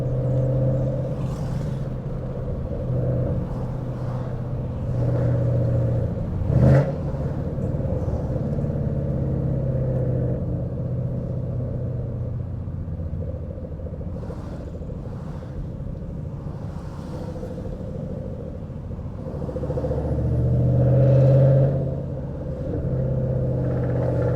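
Ford Mustang GT with a very loud exhaust, heard from inside while driving slowly in third gear: a steady deep rumble throughout, with a brief sharp blip near the start and a swell of revving toward the end.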